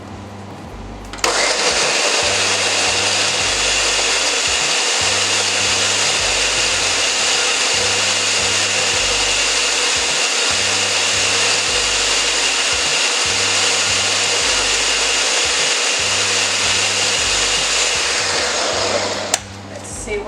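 A blender runs continuously for nearly twenty seconds, whirring loudly and steadily as it purees a lemon bread mixture until smooth, starting and stopping abruptly, with a faint periodic low pulsing underneath.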